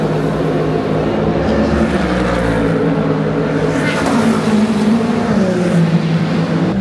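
Hypercar engines drone loudly and continuously during the WEC Lone Star Le Mans endurance race at COTA, a dense layered roar with rising and falling pitch as cars pass and come into the pits.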